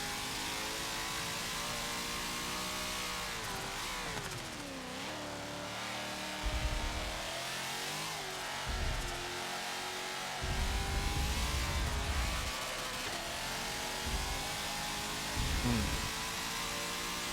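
Nissan GT-R in Forza Motorsport 7, its turbocharged engine droning steadily and swelling into repeated revs and gear changes, loud and continuous with no talk over it.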